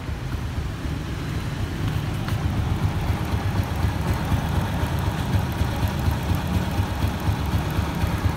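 A 2013 Honda Wave Alpha motorbike with an original engine idles smoothly at close range, giving a steady, even low rumble with no voices.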